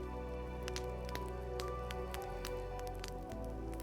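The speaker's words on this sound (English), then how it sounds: "rain began to fall from the heavy clouds behind the mountain" Rain falls on roof tiles in a mountain setting, making a steady, soft patter with scattered drips and taps over a constant low wash of water.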